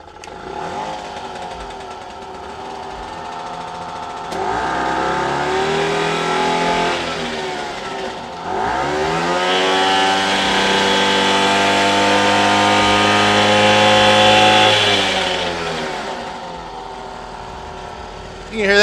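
A carbureted engine with an open air box starts up and revs repeatedly, its loud mid-range roar rising and falling in several surges before settling into a steady high rev and dropping off near the end.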